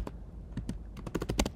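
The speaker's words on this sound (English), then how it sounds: "I created a second line by hitting enter on my keyboard." Computer keyboard keys pressed while editing text in Cricut Design Space, a close, quick series of crisp clicks that speeds into a rapid burst of typing over a steady low room hum.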